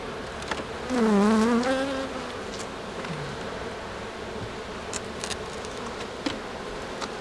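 Honeybees buzzing at an opened hive in a Quebec apiary, a close bee swooping past with a rising and falling drone over a dense, steady hum of the colony, with occasional light rustles.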